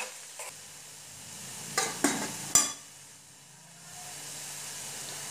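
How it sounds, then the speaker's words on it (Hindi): A semolina mixture for rava uttapam is roasted in a pan. A few scattered scrapes and knocks from stirring come at the start and in the middle, and a faint steady hiss follows. "अब इसे 1 मिनट तक भूनेंगे।"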